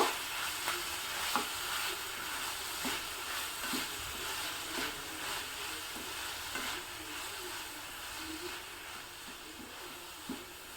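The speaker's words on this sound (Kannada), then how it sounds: "ಮೆಂತ್ಯ ಸೊಪ್ಪನ್ನು ಸಹ ಚೆನ್ನಾಗಿ ಬಾಡಿಸ್ಕೋಬೇಕು" Fenugreek leaves sauté in a pan for a traditional Brahmin-style rice dish, a soft continuous sizzle broken by regular scraping stirs of the spoon, close and fairly quiet with no talking.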